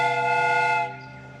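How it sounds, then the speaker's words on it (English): A steam whistle blows in Sherlock Holmes: Crimes and Punishments, one steady, loud, multi-toned blast held for nearly a second before it cuts off into a fading hiss. "The steam whistle is ready to be used."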